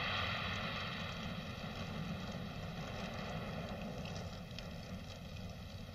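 A wood fire burning for cooking, a steady broadband roar and rush with faint crackles throughout, fairly loud and constant, with no voices.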